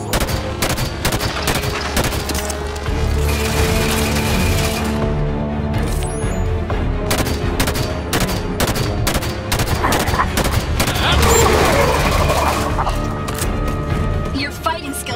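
Rapid, dense turret gunfire rattles almost nonstop in loud repeated bursts amid battle noise in Halo 5: Guardians, Mission 13: Genesis.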